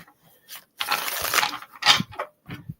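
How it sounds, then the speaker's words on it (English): A deck of cards being shuffled at close range during an oracle card reading, giving a bright riffling burst of about a second, followed by a few shorter flutters and soft taps, with no talk. "I gotta shuffle the deck at least once before I stick the cards here."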